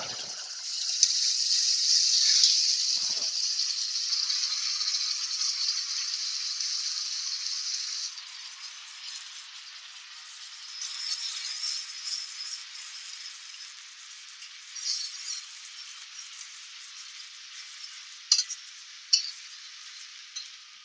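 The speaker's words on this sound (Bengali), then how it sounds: "পেঁয়াজ ভাজা হয়ে গেছে এবারে আমি আদা রসুনের পেস্টটা দিয়ে দেবো" Ginger garlic paste sizzles with fried onions in a pan, a bright hiss that is loud at first, then thins into softer crackling with occasional scrapes as it is stirred, no talk.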